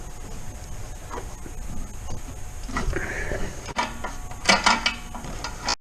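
A 15mm wrench backs off the nuts on a downpipe flange at the turbo, giving faint mechanical clicks and ratcheting scrapes, with a short burst of metallic clatter near the end against a low background hum.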